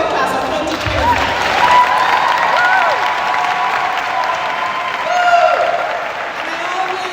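Audience applause at a University of the West Indies Mona Faculty of Medical Sciences pledge ceremony for the class of 2025, a steady, moderately loud ovation filling the hall, with voices calling out over it.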